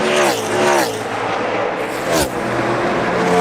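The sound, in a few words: NASCAR Cup Series race cars on the final lap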